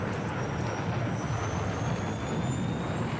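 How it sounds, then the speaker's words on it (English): Jet aircraft roaring overhead in Battlefield 6, a steady broadband rumble with a thin rising whine, continuous and fairly distant for the whole stretch. "There is another jet up."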